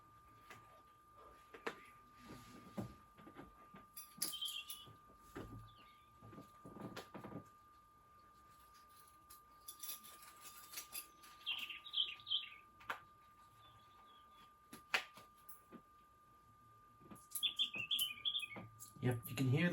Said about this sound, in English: you can hear the birds tweeting